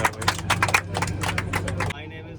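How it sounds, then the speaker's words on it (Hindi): An audience at the opening of a dream school claps in a burst of rapid, crowded applause lasting about two seconds, then stops abruptly. Voices can be heard beneath it. "ताली बजाओ भाई"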